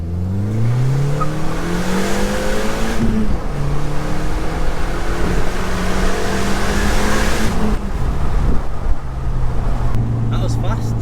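A Skoda VRS accelerating hard on a run, the engine climbing through several gear changes with loud rising revs, while people talk over it inside the car.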